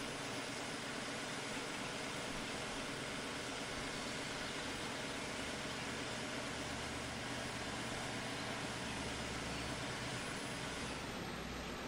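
A front loader tractor engine driving in Farming Simulator 13 while raking hay, a steady low drone that holds evenly throughout with no talk.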